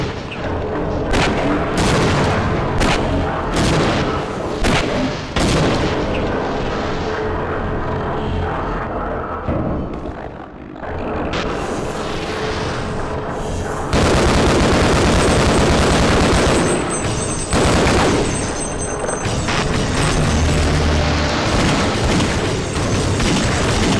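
Repeated gunfire bursts from a weapon in the shooter game Half-Life: Opposing Force, loud sharp shots in irregular clusters with booming impacts, continuing across the stretch with no talking over them.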